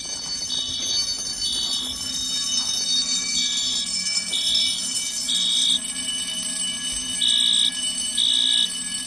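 College fire alarm bell ringing steadily indoors, heard near and loud, joined by a repeating electronic horn or strobe tone that sounds in short bursts about once a second, with no talking.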